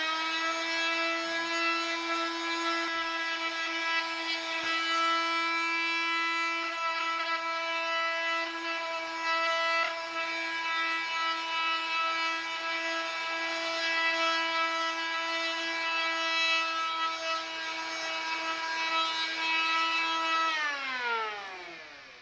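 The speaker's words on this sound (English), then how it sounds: "So we'll go ahead and start sanding on this." A power sander whines steadily for about twenty seconds on a wooden rifle stock, a bright harmonic buzz that winds down at the end. No talking.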